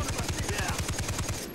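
Rapid automatic gunfire in the video game Far Cry 3, a steady burst of evenly spaced shots running through the whole moment, loud and close, with faint voices underneath.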